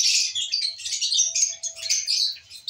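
A lovebird pair of albino red-eye type chirps continuously at close range with high, scratchy tweets and trills, fairly loud and uninterrupted, with no voices.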